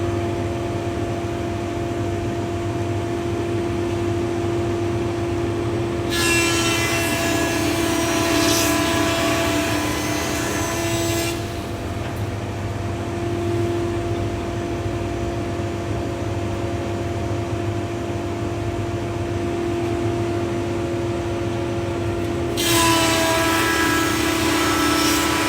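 A Woodman PT310HH planer thicknesser machines a timber board under an extra heavy cut: a steady mechanical whine and hum runs throughout, with harsh broadband cutting noise swelling in for several seconds and returning near the end.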